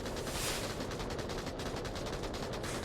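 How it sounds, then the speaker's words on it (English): Dense gunfire in the VR shooter Onward during a competitive VRML match: rapid, overlapping shots crackle continuously and loudly, with bursts layered on each other and no pauses. "we are straight there in the gunfire going on"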